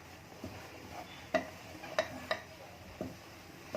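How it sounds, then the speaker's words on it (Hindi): A spoon stirs and scrapes a thick coconut barfi mixture in a pan, giving a few sharp taps against the pan over a soft background hiss. The sounds are sparse and fairly quiet. "अब अच्छी तरीके से इसे मिक्स कीजिए।"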